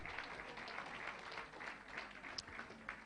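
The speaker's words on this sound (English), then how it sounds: "please give him a round of applause" An audience claps for a school principal at an ethical living project grand finale, a steady, fairly faint wash of applause lasting a few seconds with a few sharper individual claps.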